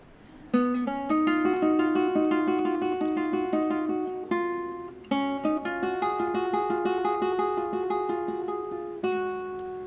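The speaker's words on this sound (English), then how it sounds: "that's a guitar sounding like a harp, to the best of my ability" Classical guitar played in a harp-like style on Mudarra's Fantasia, with plucked notes ringing over one another in flowing arpeggiated runs, steady and close, with a brief pause before the phrase resumes.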